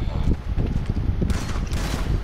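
In Grand Theft Auto V Online, gunfire crackles in quick, irregular bursts against game background noise, moderately loud and fairly close.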